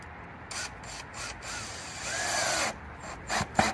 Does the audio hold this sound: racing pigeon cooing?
no